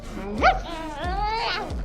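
A woman imitates a dog with her voice in a restaurant, giving two or three sharp, yelping bark-like cries in quick succession, close and fairly loud.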